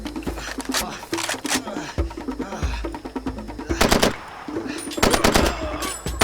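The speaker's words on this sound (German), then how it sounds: "Alter, wir schießen scharf." Rapid machine-gun bursts and single shots crack out in Far Cry 2, loud and close, coming in repeated clusters over ongoing game noise.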